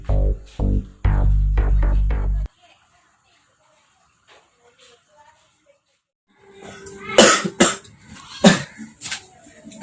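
A person coughs in a series of sharp, close bursts at the start, followed by silence and then louder, noisy throat and mouth sounds near the end.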